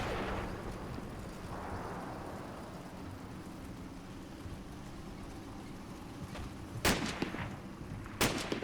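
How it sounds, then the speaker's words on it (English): Distant gunfire from soldiers in the World War II game Combat Mission set in Normandy, a low rumbling battlefield background broken near the end by two sharp louder shots. "Not really sure what these guys are firing at."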